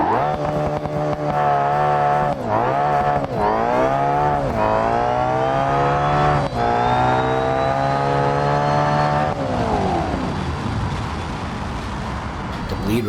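The Bleed drag car from BeamNG tearing down the strip at full throttle, a loud, continuous engine roar with rising pitch through several quick gear shifts, then easing off as the run ends.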